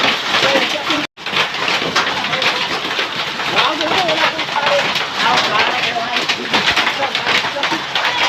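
Hail and rain pour down in a dense, loud, steady hiss of hard pellets striking surfaces, unbroken except for a momentary dropout, while people talk over the downpour.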